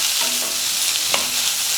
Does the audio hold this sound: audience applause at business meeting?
no